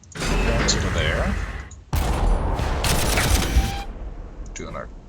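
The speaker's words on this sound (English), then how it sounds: "Do an artillery strike." An artillery strike in the video game Warhammer 40000 Armageddon lands as two loud rumbling bursts of booming explosions, the second longer and heavier, followed by a quieter tail with faint mechanical clicks.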